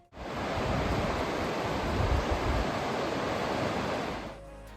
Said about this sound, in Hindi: और गुफा के सामने ही बह रही है अलकनंदा नदी।